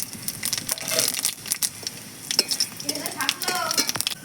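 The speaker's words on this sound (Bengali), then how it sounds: "এবার জিরে আর শুকনো লঙ্কা ফোড়ন দিয়ে দেবো।" Cumin and dried chillies hit hot oil in a kadai, a crackling tempering sizzle mixed with irregular metallic clatter and scraping from a spoon against the pan, close up.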